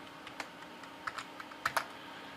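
Typing on a computer keyboard during work in Unreal Engine 5.1, with scattered quiet keystrokes and a couple of sharper presses near the end, close and alone.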